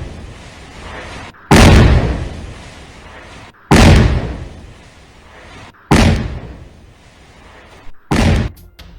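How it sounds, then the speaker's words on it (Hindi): A house rocked by a series of loud bomb blasts, four booming explosions spaced a couple of seconds apart with rumbling decay between them, the last one shorter and sharper. "तो जोरदार धमाके की आवाज आपने सुनी"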